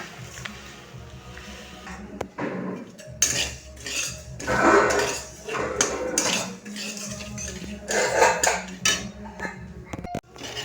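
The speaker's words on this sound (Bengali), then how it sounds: "এই কড়াইতেই ডালিয়াটা ভেজে নেব।" Dalia is dry-roasted in a kadai over low flame, with a metal spatula scraping and clinking against the pan in repeated strokes, loud and close, and a faint voice now and then.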